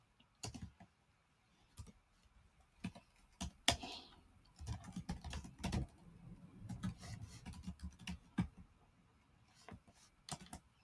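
A command is typed on a computer keyboard in a Linux terminal: quiet, close, irregular keystroke clicks, some in quick bursts and others spaced apart, with no voice.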